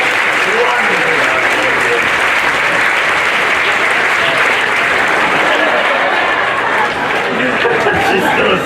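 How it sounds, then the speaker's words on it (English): A stage show audience gives loud, steady applause mixed with cheers and crowd chatter. It fills the space without a break for several seconds. "Give a big round of applause."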